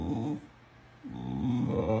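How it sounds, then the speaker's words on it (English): A dog makes a drawn-out, voice-like howling growl that sounds like it is saying mama, two loud vocal bursts with a short pause between them. "I saw this video of this dog saying mama."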